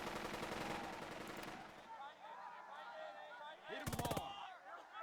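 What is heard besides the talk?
gunfire in the video game Burden of Command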